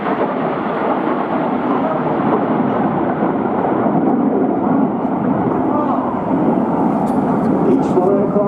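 A Red Arrows display jet pulls up into a roll with a loud, broad roaring rush that stays steady and close from start to finish, with some faint crowd or commentary-like sounds underneath.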